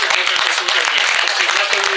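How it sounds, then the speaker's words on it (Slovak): Applause for the FC Nitra youth players at the Slovnaft Cup in Velky Cetin. Dense, steady clapping fills the moment while a voice speaks over it. "chlapci z FC Nitra si zaslúžia jeden veľký potlesk"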